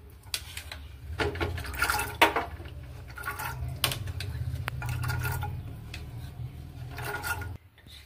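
Water pours and sloshes as soaked, washed chickpeas go into a pressure cooker for chana masala, with a steady rushing fill and clinks of metal utensils, ending abruptly.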